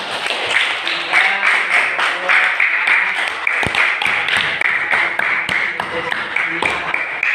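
Classroom applause during a teacher-training lesson breaks out as a group finishes reading its discussion results, a dense, steady patter of many hands clapping close by for several seconds, with voices mixed in.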